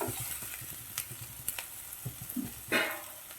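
Onion and carrot stir-fried with a little salt in a pan for dragon chicken: a quiet, continuous sizzle broken by light rhythmic spatula taps and a brief louder scrape near the end.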